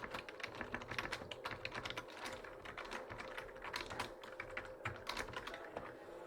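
Close computer keyboard typing of C++ code runs as a steady, dense patter of key clicks from start to finish, with no voices.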